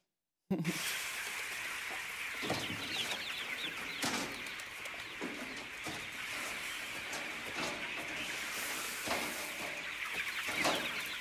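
Chickens cluck continuously in a crowded poultry shed from a French farming film, a dense chorus of overlapping clucks and squawks with occasional wing flaps, loud and close throughout.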